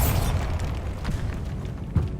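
A deep boom from the Bombarda blast spell in Hogwarts Legacy, a low rumbling explosion with a couple of smaller thuddy bursts trailing after it.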